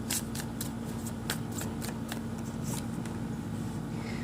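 Tarot cards being drawn and laid out during an Aries reading, giving a series of crisp card snaps and shuffling flicks at a steady close-up level over a low constant hum, with no talking.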